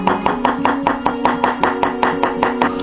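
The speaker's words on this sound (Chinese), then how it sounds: "还是大蒜切蒜泥，" A knife chops garlic into a paste on a board with loud, close, rapid thuds in an even rhythm, about five strikes per second, with no talk over them.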